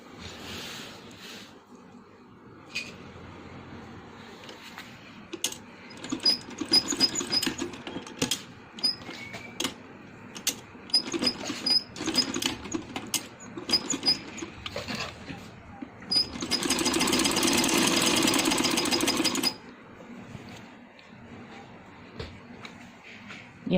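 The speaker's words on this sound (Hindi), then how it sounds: "यहाँ तक पोंचे से लेके आसन तक हम इसकी सिलाई लगाएंगे" A sewing machine stitches a handmade baby boy's dress, mostly in short intermittent bursts amid handling clicks and rustles, then one longer steady run near the end; moderately close, no talking.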